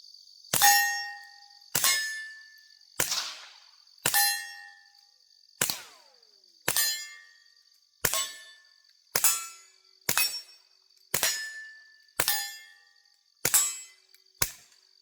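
Around a dozen sharp, suppressed reports from a Taurus TX22 Compact .22 pistol fitted with a Dead Air suppressor, evenly spaced about a second apart, each with a short metallic ringing tail.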